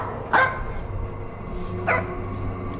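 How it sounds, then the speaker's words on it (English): A big dog barks twice in two sharp, loud bursts separated by a pause, set over a steady low background hum indoors. "What are you barking at?"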